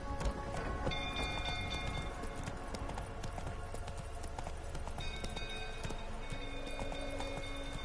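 Roach the horse gallops in The Witcher 3, a steady rapid clip-clop of hooves running continuously at close range with faint game ambience behind, no talk.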